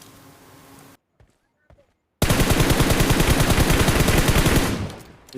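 Video game gunfire bursts out as a long, loud, rapid automatic volley after a near-silent lull with a few faint clicks, then fades away near the end.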